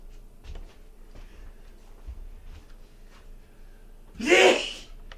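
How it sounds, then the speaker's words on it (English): A single sharp sneeze bursts out loudly near the end of an otherwise quiet kitchen stretch with faint background clatter. "That was a sneeze."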